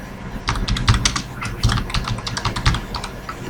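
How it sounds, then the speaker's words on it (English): Rapid typing on a computer keyboard while writing JavaScript code, a close, busy patter of key clicks with uneven bursts and no talking. "What am I typing now?"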